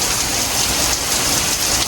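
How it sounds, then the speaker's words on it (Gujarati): Heavy rain driven by strong wind, a loud, steady and dense roar of downpour with no break and no voices. "જોવો કેવો ફાસ્ટ વરસાદ આવે છે અત્યારે"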